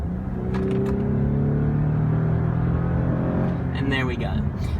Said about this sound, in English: we'll just do a kick down from 40 to 60